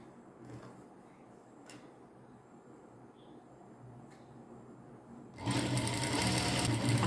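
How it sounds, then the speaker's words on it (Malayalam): Domestic sewing machine stitching front and back pant pieces together; a quiet room gives way to the machine starting up loud and close, then running steadily to the end. "ഒരു ഫ്രണ്ട് പീസ് ഒരു ബാക്ക് പീസ് കൊടുത്ത് തയ്ക്കുക"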